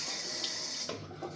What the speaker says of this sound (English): We'll rinse the hands off.